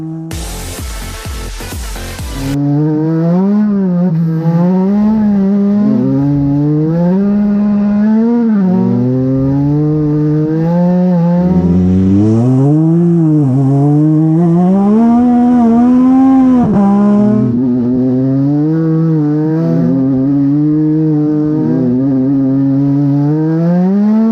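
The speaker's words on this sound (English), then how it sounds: "as soon as you touch the throttle, you start to drift, and to make you happy, here is just a tiny compilation of drifts." A race car in the video game Racing is Life drifting through a compilation of slides, its engine note rising and falling in loud, continuous revving sweeps after a brief burst of harsh noise at the start.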